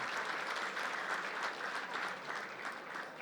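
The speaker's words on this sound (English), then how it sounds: "So a big round of applause to all of them." Sustained audience applause for event volunteers at a literature festival closing debate, a steady wash of many hands clapping throughout at moderate level.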